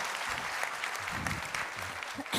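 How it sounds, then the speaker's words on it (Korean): A church congregation at a Sunday worship service applauds in a brief, steady patter of clapping at moderate volume. "박수를 보내주시기 바랍니다"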